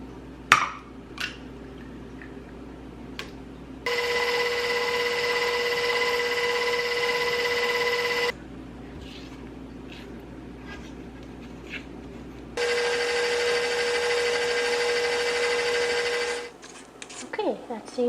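Electric hand mixer blending vanilla and egg into gingerbread cookie dough in a bowl, running in two steady whirring bursts of several seconds each, with quieter pauses and light kitchen clatter between them.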